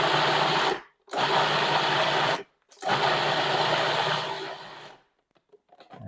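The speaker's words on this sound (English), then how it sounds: "we're going to put that in here and grind it up." A kitchen blender or food processor grinds ingredients for vegan sausage cheese balls in three loud whirring bursts, each stopped abruptly, before a few quiet clicks at the end.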